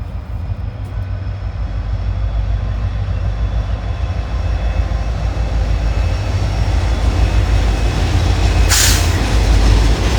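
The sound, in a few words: train passing by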